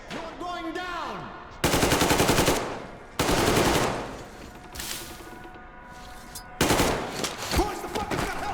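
Loud automatic gunfire from the video game Metro Exodus, with several sustained bursts of rapid shots separated by brief pauses and echoing tails.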